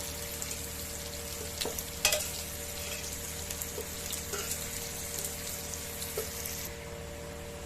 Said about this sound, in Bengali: তোমরা দেখতে পাচ্ছ আমার চিংড়ি মাছগুলো ভাজা হয়ে গেছে।